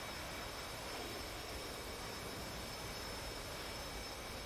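A jet plane engine roars steadily during a carrier landing in the flight simulator DCS, a constant broad whine and rumble with no pauses or voices.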